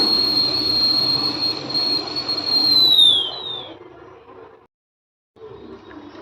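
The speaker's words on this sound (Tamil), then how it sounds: "இட்லி குக்கரில் வந்து பார்த்தீங்கன்னா விசில் வந்துடுச்சுங்க" An idli pressure cooker on a stove whistles with a sustained high, steady tone that slides slightly downward, then cuts off. A faint kitchen background follows a brief silence.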